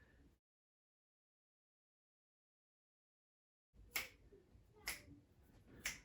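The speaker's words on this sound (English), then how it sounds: "you can do a few finger snaps." Three crisp finger snaps, close and evenly spaced about a second apart, ring out after a few seconds of silence during a postnatal mum and baby yoga session.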